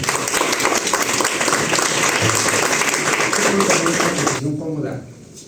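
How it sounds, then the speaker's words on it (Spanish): Welcoming applause from an audience at a university academic program conference, a dense burst of clapping that cuts off abruptly, leaving a brief faint murmur. "Pido un aplauso de recibimiento para mí"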